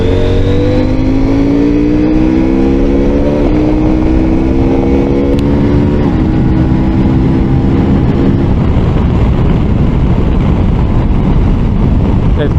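A CFMOTO 800MT motorcycle accelerates hard under throttle, engine pitch climbing then dropping at each quick-shifter upshift, loud and close with heavy wind rush building as speed rises.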